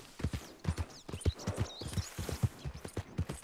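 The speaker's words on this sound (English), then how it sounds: "Oh, this horse seems fast." Horse hooves clip-clopping in rapid, rhythmic pairs on ground in Red Dead Redemption 2, close and distinct, a fast gait with faint ambient game sound between strikes.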